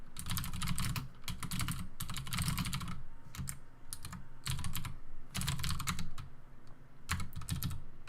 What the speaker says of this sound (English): How loud is my typing?